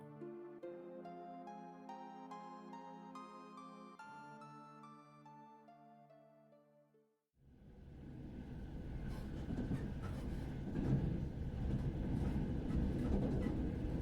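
A few seconds of gentle melodic music, then a steady, loud rumble and rattle of a Shinra Rail train in Final Fantasy VII rolling along the rails, continuing without a break.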